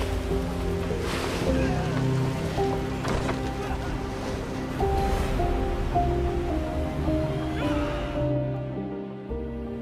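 Heavy crashing sea surf and roaring water from a typhoon-driven tsunami in a disaster film, a continuous loud wash with surging bursts, backed by low rumbling and music-like tones, cutting off near the end.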